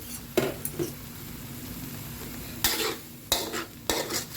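A utensil stirs soup seasoning and MSG into pork bone curry with bamboo shoots in a pot, producing a few scraping, clattering bursts separated by quiet gaps over a faint background, close by, with no speech.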